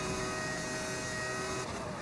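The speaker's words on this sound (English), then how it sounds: "I've modded it to make it sound different, mate. I believe it's a V10." A steady, high-pitched modded V10 Formula 1 engine whine from a BMW car in F1 25, held at constant revs with a sustained tonal drone and no pauses.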